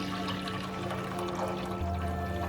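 Water poured into a pot for a Manipuri chicken and vegetable stew gives a soft, fairly quiet splashing pour under a steady low hum, with no talking.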